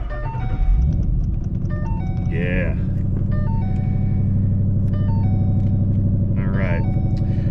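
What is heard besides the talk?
VMP supercharged 2013 Mustang GT engine starting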